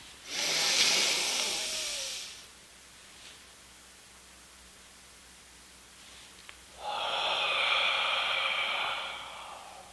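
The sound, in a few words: box breathing: inhaling, holding, exhaling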